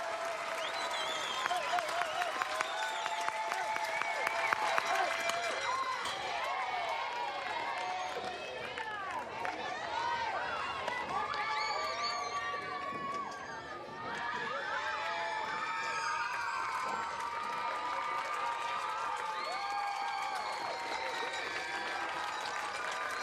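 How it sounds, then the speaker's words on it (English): Spectators at a Texas versus Arkansas college softball game cheer and clap in a lively, continuous roar, with shouts and children's voices rising and falling throughout and louder bursts early on. "Crowd coming alive."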